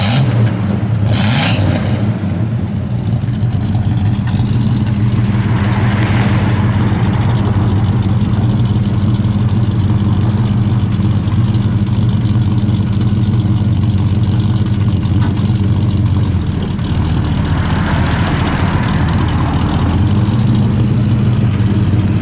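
A 1972 Chevrolet Cheyenne 10 pickup idles through its factory exhaust manifolds and stock single exhaust, a steady low rumble heard up close, with a sharp click near the start and slight swells midway.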